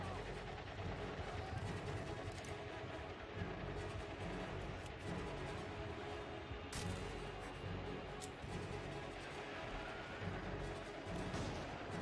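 Dense, continuous battlefield gunfire from a World War I combat game, with rattling machine-gun bursts and heavy artillery booms layered over each other at steady loudness throughout.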